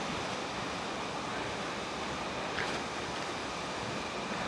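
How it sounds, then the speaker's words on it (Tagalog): Cabag Falls in Silang, Cavite pours in a steady, dense roar of rushing water, loud and close throughout with no pauses. "Ito, yung Kabag Falls. Ganda. May mga mini falls pa doon."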